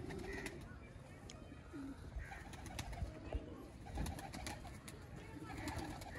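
Teddy breed pigeons coo softly and repeatedly on a rooftop, with low rolling calls amid faint chirps and ambient outdoor noise, fairly quiet overall.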